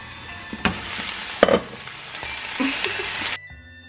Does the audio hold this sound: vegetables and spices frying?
yes